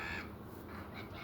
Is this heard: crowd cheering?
no